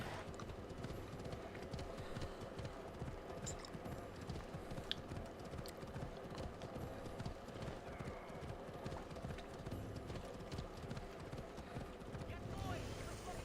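Steady rhythmic clip-clop of a horse's hooves at a slow, even pace in the city of Athens in the video game Assassin's Creed Odyssey, continuous throughout, with faint background sound underneath.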